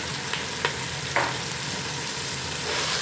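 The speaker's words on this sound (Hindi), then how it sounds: "इसमें हम बारीक पिसा हुआ आधा किलो बीफ का कीमा डाल देंगे" Minced beef keema fries with onion, garlic and ginger in a steady close sizzle, with two or three brief scraping clicks from stirring.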